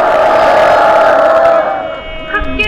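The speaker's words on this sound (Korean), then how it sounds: "격려의 함성 부탁드리겠습니다." A crowd at an outdoor rally against the Fukushima contaminated-water release roars with sustained cheers and shouts of encouragement, loud and close, then fades into scattered voices.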